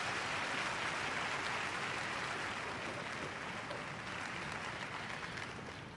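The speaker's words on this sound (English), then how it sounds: "If the crowd could please stop clapping" Sustained applause from a crowd at an esports racing event for the Canadian Grand Prix, a dense even clatter of clapping that fades slightly toward the end.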